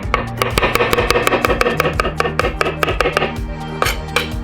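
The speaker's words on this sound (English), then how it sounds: "I'm going to cut up some mushrooms." Mushrooms chopped with a knife on a cutting board, a fast steady run of sharp close knocks without talk.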